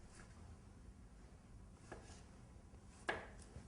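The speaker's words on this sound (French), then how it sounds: "je vais équeuter afin de les couper en 4 pour préparer ma sauce" A knife chopping cherry tomatoes into quarters on a board for a pasta sauce, a few faint cuts followed by one crisp, distinct chop near the end, with no talking.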